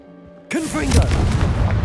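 A sudden loud blast from a Confringo fire spell in Hogwarts Legacy erupts after a short quiet start, then rumbles and crackles on for over a second.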